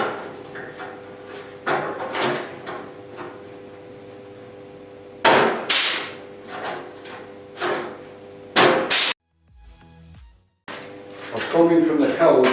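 Joggling tool stepping the edge of a steel body panel on a Mk 1 Ford Escort during restoration: sharp metallic clunks and clanks in irregular bursts, close and loud, with a brief silence partway through.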